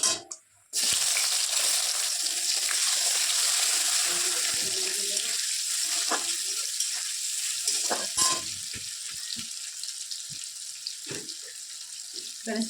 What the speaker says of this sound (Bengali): তেলটা গরম হয়ে গেছে, এর মধ্যে তেজপাতা, শুকনো লঙ্কা, এলাচ একটু দিয়ে দিলাম